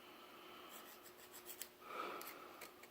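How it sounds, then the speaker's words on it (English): A small diamond-crusted file rasps around a stud on a Liberty Hammer coachgun part, a quiet, close scraping in short strokes that grows slightly louder midway. "I'm going to take one or more of my little diamond crusted files here and go around that stud"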